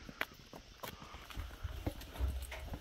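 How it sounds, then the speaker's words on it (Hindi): A horse on a trek, its hooves clip-clopping in a loose walking rhythm on the trail, faint and somewhat distant with soft ambient noise around it. "ये रहा भाई घोड़ा"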